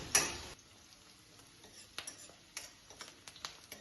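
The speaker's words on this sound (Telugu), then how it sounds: "ఆయిల్ హీట్ అయిన తర్వాత ఆనియన్, పచ్చిమిర్చి వేసి వేయించుకోవాలి" Onions and green chilies frying in hot oil for a green pepper chicken dish, a faint steady sizzle with a few soft ticks and clinks from stirring, heard alone without talk.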